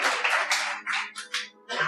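A small audience at a Hindi poetry recital claps in short, uneven bursts, a few scattered rounds of hand claps that start and stop within two seconds.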